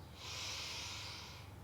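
One long, slow, deep inhale through the nose as part of a guided relaxation breathing exercise, a soft, close, airy hiss that rises and fades with no talking over it.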